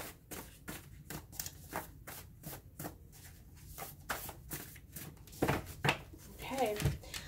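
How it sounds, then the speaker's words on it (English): Tarot cards are shuffled in quick repeated riffling bursts, close and crisp, with a voice speaking softly over the last few seconds. "One more shuffle."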